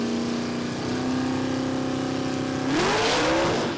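A drag racing car roars off the line at Willowbank Raceway in Australia, a loud sustained engine note that climbs sharply in pitch near the end as it accelerates down the strip.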